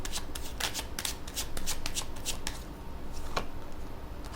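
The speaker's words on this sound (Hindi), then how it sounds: "पहले कार्ड्स को निकाल लेते हैं" Tarot cards are shuffled by hand up close in a quick series of crisp riffling bursts, with a steady soft hiss between them.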